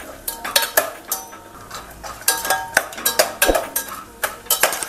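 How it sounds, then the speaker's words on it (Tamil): Buttermilk chilies frying in hot oil in a pan, heard as close, loud clinks and scrapes of a utensil stirring against the metal over a light sizzle, with no talking. "இந்த மோர் மிளகா கொஞ்சம் வறுபடட்டும்"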